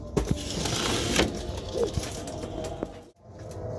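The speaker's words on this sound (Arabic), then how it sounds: "الحمام مش بتاع مطار، يعني حمام بيتفرخ" Breeding pigeons coo softly in a loft, low murmuring calls scattered through a steady background with a few brief knocks, no talk.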